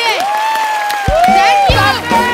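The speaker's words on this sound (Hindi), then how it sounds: "एक बार जोरदार तालियां मेरे लिए।" A studio audience at a comedy show cheers loudly, with overlapping high whoops and shouts in a dense, close burst that carries through the whole moment.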